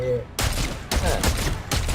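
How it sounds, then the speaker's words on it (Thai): Gunfire in the sci-fi shooter Dead Space 3, heard as three loud bursts of rapid shots in quick succession, each a sharp broadband blast with a short tail. "กดสเปซบาร์เพื่อยิงปืนด้านล่าง"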